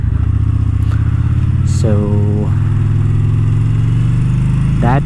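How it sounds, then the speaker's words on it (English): A Yamaha Bolt 950 motorcycle cruising around town, a loud, close, steady low engine drone with a couple of brief rising revs, while someone talks over it. "a quick ride to test out the Yamaha Bolt 950 in around town condition"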